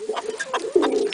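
A pigeon kept in a backyard loft coos nearby, a loud, soft, throaty rolling call that swells and holds, with no other voices over it.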